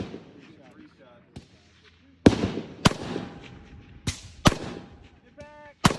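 Several loud gas-gun shots crack out at an outdoor shooting range with a dirt berm, sharp reports spaced irregularly over a few seconds, with people talking faintly between them.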